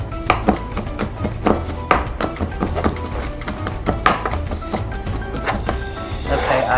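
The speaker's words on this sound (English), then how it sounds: "And then you mince." A knife mincing garlic on a cutting board for étouffée, with quick steady chopping taps repeating close up over a low background hum.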